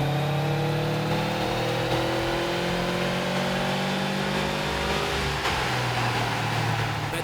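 Engine of a 2003 Subaru WRX wagon with aftermarket exhaust, STI intercooler and reflashed tune, running steadily on a dyno with a continuous loud drone and rising harmonics, no talk.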